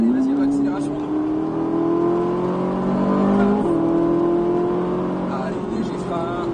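A Ferrari F458 accelerating on a race circuit, its engine note climbing steadily, dipping briefly at a gear change and rising again, loud and close inside the car.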